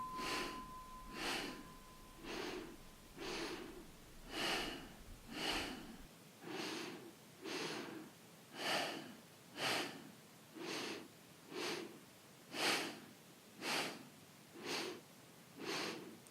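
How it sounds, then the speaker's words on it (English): Rhythmic pulsing breath in a beginners' meditation, a steady train of about a dozen sharp, forceful two-stroke exhales through the nose, evenly spaced and close, with no voices. "On the next exhale, 2-stroke breath."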